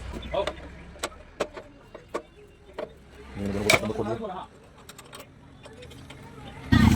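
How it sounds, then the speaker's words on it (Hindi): A 10 mm spanner works loose the fuel tank bolts on a Bajaj Platina motorcycle, giving sparse metallic clicks and ratcheting scrapes, a brief clattering burst midway, and a louder knock at the end. "10 नंबर टामे से इसकी टंकी को निकालूंगा। टंकी निकालने के लिए ये 2 बोल्ट खोलने हैं।"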